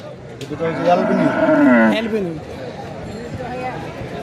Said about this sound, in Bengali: এখানে যে মহিষ দুইটা আমরা দেখছি এগুলা কি জাতের মহিষ ধরে